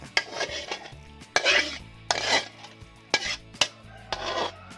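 Thick Thai beef curry with coconut milk and pea eggplants pours and a utensil scrapes repeatedly against a metal pan, with sharp clanks and rhythmic scraping strokes close by.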